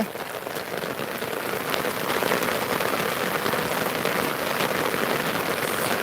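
Steady rain pours down in Tirunelveli, a dense continuous hiss of drops on surfaces, loud and close, with no voices.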